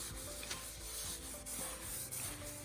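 Oil-based wipe-on polyurethane being rubbed onto a wooden coffee table with a cloth, continuous close scrubbing strokes with a soft rasp, steady and unaccompanied by speech.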